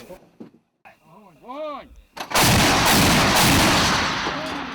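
An S-60 anti-aircraft gun fires a loud, close burst after a few quieter mechanical sounds and a whistling tone, the blast roaring and then slowly decaying.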